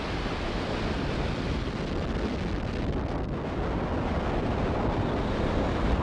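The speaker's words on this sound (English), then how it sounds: "Engines full power. And liftoff of VIASAT-03." SpaceX Falcon Heavy rocket lifting off on the ViaSat-3 mission with engines at full power: a continuous, dense broadband roar, loud and unbroken throughout, heard from a distance with no voices.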